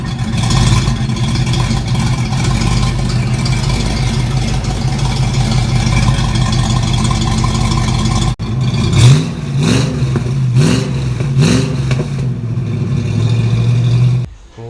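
A car engine runs steadily with a low, rough drone, then revs in several uneven surges near the end before cutting off, heard in a garage during a repair session.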